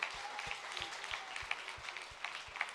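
Faint, steady clapping from an audience at a Super Mamie 2022 ceremony in Nice, with a few sharper individual claps standing out from the continuous patter.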